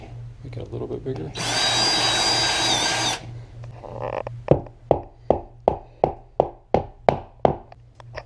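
A power drill whirs continuously for about two seconds while its bit widens a hole for a wall anchor during curtain-rod installation, followed by a run of sharp, evenly spaced knocks or taps.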